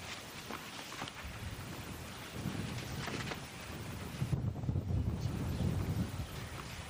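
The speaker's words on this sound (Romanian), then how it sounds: "din nou rafale de vânt" Gusts of wind buffet the microphone at an outdoor tennis match in Bucharest, a steady low rumble that swells stronger toward the end, with no clear talk over it.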